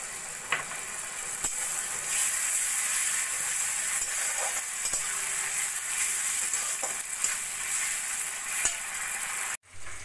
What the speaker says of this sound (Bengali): ক্যাপসিকাম আর স্প্রিং অনিয়ন দিয়েও 2 মিনিট মতো ভেজে নিয়েছি।